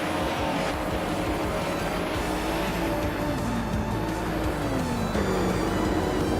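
A 1998 Mitsubishi FTO JGTC race car in a video game drives with a steady, loud engine drone that climbs and dips in pitch as it shifts, under a constant noisy wash.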